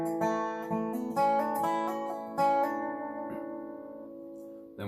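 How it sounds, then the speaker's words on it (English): A dobro plays an Irish-style fiddle-tune phrase with quick triplet ornaments, several plucked notes clustered then a long ringing final note fading out, solo and close. "That's how it gets a really cool Irish little fiddly sound."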